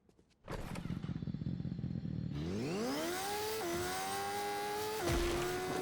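A motorcycle in the video game Fortnite starting up and accelerating, engine pitch climbing smoothly then holding a steady whine with a brief shift, close and clear without talk.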